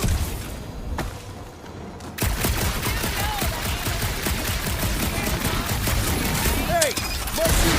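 Rapid gunfire from the video game Marvel's Guardians of the Galaxy, a dense stream of shots that stays loud and steady through most of the stretch after a brief quieter opening, with game chatter mixed in.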